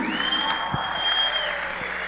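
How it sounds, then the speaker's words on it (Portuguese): A church congregation at a Sara Nossa Terra service applauds in a steady, even wash of clapping, with a sustained tone ringing over it and no talking. "Bem forte, dê uma salva de palmas"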